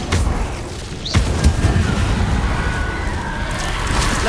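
A fiery Incendio spell cast in Hogwarts Legacy on PS5 erupts as a loud, roaring boom with a crackling whoosh that swells and sustains for several seconds.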